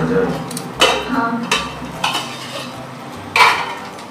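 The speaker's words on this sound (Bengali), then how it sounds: "এবার ঢাকনাটা খুলবো।" A metal lid lifts off a cooking pan with several loud, close clanks and scrapes of metal on metal, spaced out over a few seconds, over a faint background hiss.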